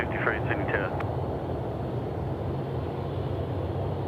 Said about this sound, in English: Jetstar 320 now just coming in overhead here at the Canal.